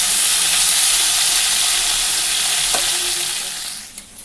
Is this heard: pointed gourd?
yes